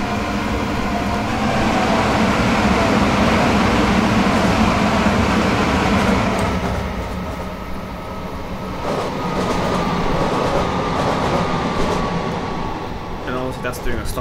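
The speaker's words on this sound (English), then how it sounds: "we are going to be overtaking a Great Northern train" A Great Northern train being overtaken in Train Simulator 2018 on a Brighton to Cambridge run: a continuous low rumble of rolling stock and cab hum, steady throughout with slight swells, a voice talking over it.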